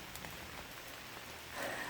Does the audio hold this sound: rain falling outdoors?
yes